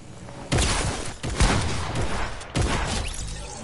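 Video game gunfire rings out in three sharp, loud bursts, each followed by a noisy decaying tail, close and with no talk over it.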